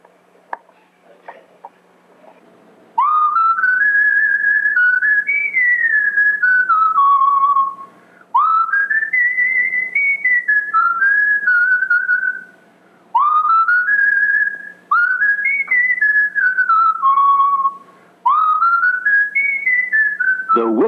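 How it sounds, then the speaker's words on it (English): A baseball manager's signature double whistle, sounded four times in a row: each a loud, sliding two-part whistle with brief pauses between, heard alone without talk. "I'll give him the, what I call my double whistle."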